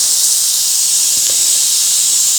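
Steam hisses hard from the pressure release valve of a Ninja Foodi cooking meat, a loud, steady, close jet of sound that cuts off abruptly at the end.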